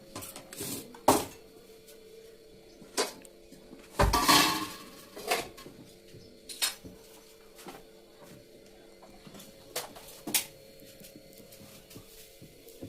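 Dishes and plates clatter as a plate is picked up in a home kitchen where fish is being cooked. Scattered clinks and knocks come close and fairly sharp, with one louder burst of rattling partway through and quieter taps between.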